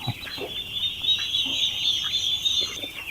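Turkeys and chicks cluck and peep steadily at a poultry sale pen, a dense flock chorus heard close, with no talk.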